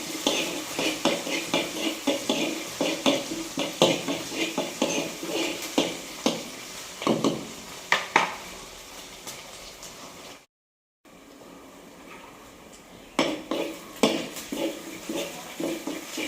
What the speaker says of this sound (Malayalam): ചതച്ച് വെച്ചേക്കുന്ന ഇഞ്ചിയും വെളുത്തുള്ളിയും കൂടെ ഇട്ട് കൊടുത്ത് ഇളക്കി വഴറ്റാം